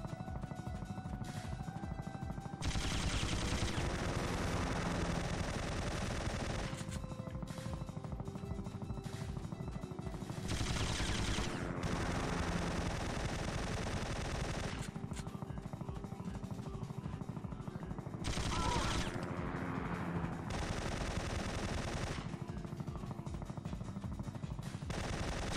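Continuous gunfire in the PlayStation game Syphon Filter during a bunker and tower mission, loud sustained automatic bursts layered over a steady droning backdrop, with sections of denser fire recurring throughout.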